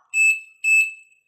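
Two short, clear electronic beeps from a Smart Caregiver TL-2100G fall prevention monitor, evenly spaced, loud and close with silence around them.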